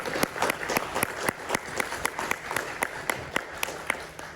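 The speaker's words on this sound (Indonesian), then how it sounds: "kita mohon teman-teman media memberikan aplaus kepada PSSI dan juga pemerintah" Media members applaud at a press conference about the U-17 World Cup, a sparse rhythmic clapping of a modest crowd, fairly close and steady throughout.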